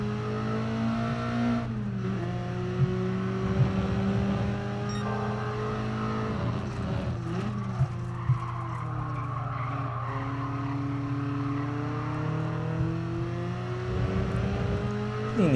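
A BMW M3 Evo in Gran Turismo Sport at Tsukuba powers out of a corner, engine droning and rising in pitch through the gears, with tires squealing and skidding, loud and continuous.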